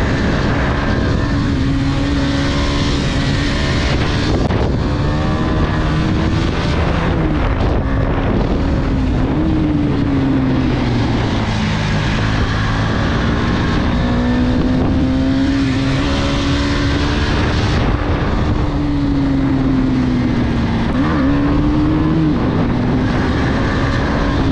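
A KTM motorcycle ridden flat out on an open road at around 143 km/h, its engine note loud and continuous, rising and falling in pitch as the rider works through the gears under steady wind rush.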